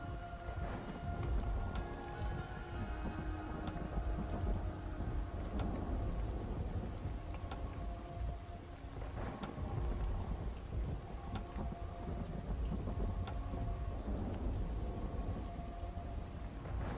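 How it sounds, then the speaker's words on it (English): Rain and thunder from an Unreal Engine dynamic weather system: steady heavy rainfall hisses throughout while several deep thunder rumbles roll in and fade, loud and close. "in a while, rain will be cleared and thunder strike will also stop as the rain is cleared."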